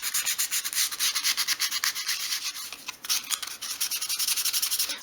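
Painted frames for a 1/12 scale miniature shop are rubbed with 500-grit sandpaper, giving quick, scratchy back-and-forth strokes in a steady close rhythm with a brief pause midway.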